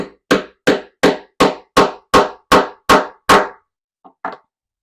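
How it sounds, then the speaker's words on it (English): Hammer blows setting rivets through a faux leather cord keeper: nine sharp, evenly spaced strikes close up, then a pause and two lighter taps. "So now I'm just going to hammer that in."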